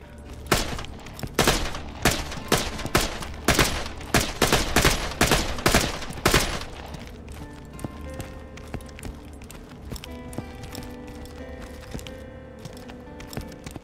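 Rapid gunfire from a Borderlands 2 video game, loud repeated bursts of shots for about six seconds, then a quieter stretch of game ambience with faint tonal effects.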